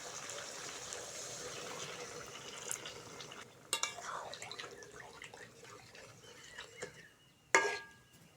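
Water is poured into a pot of chicken liver curry, a soft liquid splashing and trickling that runs on, with a couple of sharp clinks and knocks near the end.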